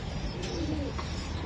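A racing pigeon gives a short, soft, low coo close by against a busy background.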